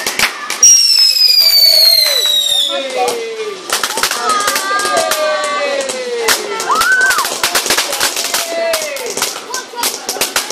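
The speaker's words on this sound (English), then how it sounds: "Look at it, watching our fireworks." Bonfire Night fireworks go off in quick succession: whistling rockets with gliding pitches, loud bangs and crackles. The display is loud and close, with voices faintly mixed in.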